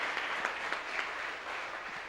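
A church congregation applauds together in steady, rhythmic clapping that holds at an even level for about two seconds, with no clear voices on top.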